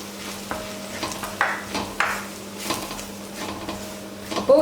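Papaya pickle cooks in hot oil with curry leaves and Kashmiri chili powder, a soft steady sizzle under scraping stirs and light clinks of a utensil against the pan.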